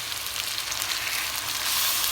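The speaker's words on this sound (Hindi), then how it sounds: "अब टाइम है मसाले को अच्छी तरह पकाने का और भूनने का" Masala with green chillies fries in hot oil, a steady close hiss and crackle of sizzling that holds evenly throughout, with no voices.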